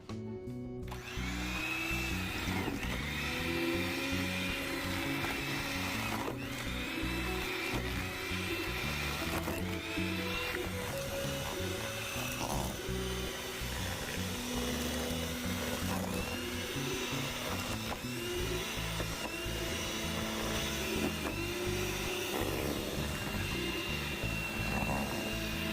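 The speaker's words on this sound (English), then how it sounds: "I'm gonna use my mixer, and this mixer is like 12 years old" An electric mixer about twelve years old creams the wet ingredients for banana bread, running as a continuous, loud whirring drone with slight wavering pitch and no talk.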